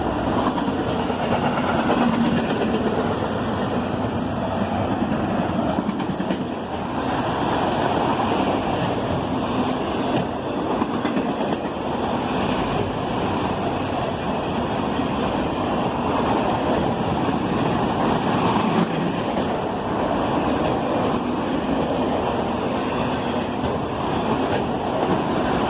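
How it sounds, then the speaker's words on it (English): A long freight train of Chessie System gondolas led by a pair of SD50-3 locomotives rolls past with a steady, broad rumble and clattering wheel noise that holds at a constant level without speech. "the pair of sd50-3 DCs leading provide plenty of power for this train"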